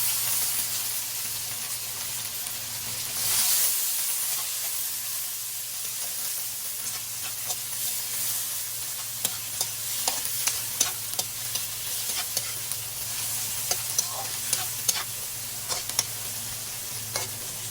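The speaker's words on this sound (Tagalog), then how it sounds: "So, gisa na po natin sibuyas." Onion and tomato sauté in a hot pan with a steady close sizzle and hiss, joined by stirring scrapes and small clicks that grow more frequent toward the end.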